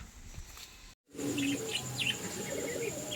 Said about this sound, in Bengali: এই পায়রাগুলো সোমেনদার সুভাষিসদার চ্যানেল থেকে দেখে পায়রাগুলো নিয়েছি